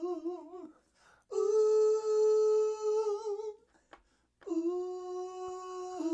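High falsetto background vocals recorded for a song: sustained stacked harmony notes with a slight wobble, sung in three phrases separated by short silences, clean and upfront.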